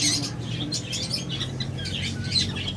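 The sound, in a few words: pet birds chirping, lovebirds and cockatiels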